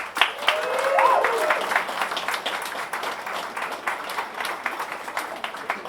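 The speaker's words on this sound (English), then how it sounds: "I'd like you all to give a round of applause and a cheer to the artists here tonight." An art exhibition audience at a private view gives the artists a round of applause, with dense steady clapping that peaks early and then continues evenly, plus a brief faint whoop near the start.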